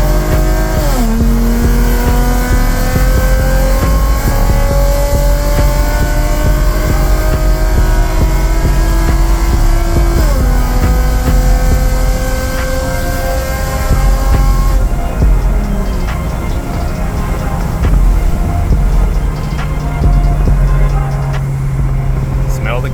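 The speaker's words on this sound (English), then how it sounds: "I'm gonna set up for like a little 40 roll and just pin it." A Lexus IS 250 accelerating hard at full throttle from a 40 mph roll, loud engine pitch climbing through gears with clear shift drops, heard from inside the car.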